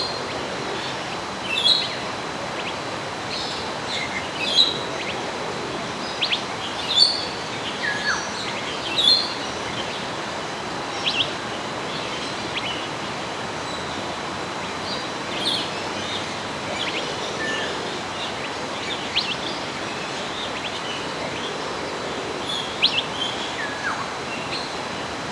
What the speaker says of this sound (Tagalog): Ang daming ibon diyan sa mga puno na yan.